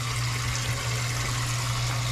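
Steady rush of tap water running in a home kitchen during Thanksgiving turkey dinner prep, continuous and even for a couple of seconds with no talk.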